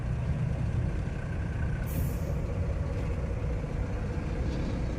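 A loaded truck idles at a weighbridge near Gampalagudem, its engine rumbling steadily, then releases a brief sharp hiss of air brakes.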